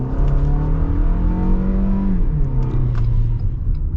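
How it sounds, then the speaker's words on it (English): A 2025 Toyota RAV4 Limited's four-cylinder engine pulls uphill under load, a steady, loud droning hum heard from inside the cabin with the pitch holding and shifting slightly, and no talking. "See the torque up this hill."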